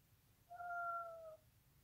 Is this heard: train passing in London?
no